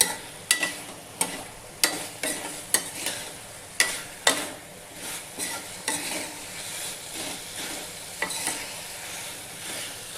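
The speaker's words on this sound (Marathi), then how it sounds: "आता हे टाकलं याच्यामध्ये बटाटे. आता मिक्स करून घ्या." Potatoes being stirred on full heat in a pan for a quick curry, a dozen or so rhythmic spatula scrapes striking over a constant close sizzle.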